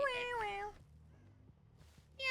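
A voice imitates a cat with a drawn-out meow, then a quiet pause before another meow begins.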